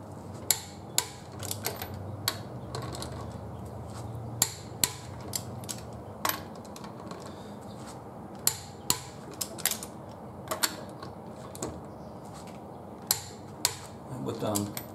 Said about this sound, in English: it's just a question of putting the others in, torquing them to 76 foot-pounds